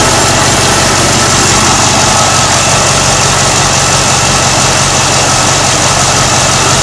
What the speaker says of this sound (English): Definitely idle smoother than it used to.